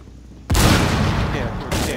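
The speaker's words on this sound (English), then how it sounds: "I'm in the room, but they're shooting at me." Gunfire in the Rainbow Six Siege video game: a loud, abrupt burst erupts and holds as heavy, continuous shooting for over a second, cutting off and then resuming briefly, with voices in the mix.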